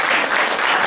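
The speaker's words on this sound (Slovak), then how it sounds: "Zatleskamy Mikołka." Brief burst of dense audience clapping at a children's Christmas show, steady and close throughout.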